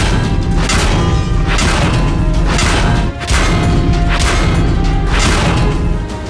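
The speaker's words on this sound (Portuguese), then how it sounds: "Este é o som do dano médio." Game sound for a tank taking a medium-damage hit: repeated heavy booming impacts with whooshing, crashing edges at roughly one-second intervals, loud and continuous, with no voices.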